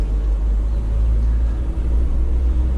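A Puch Mercedes G-Wagon 230 GE van conversion on the move, heard from inside as a steady, loud low engine and road rumble with no talk.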